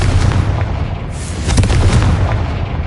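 The Confringo blasting spell fires in the video game Hogwarts Legacy; dense booming explosions and crackling bursts roll continuously, loud and near, with a few sharper impacts partway through and no talking.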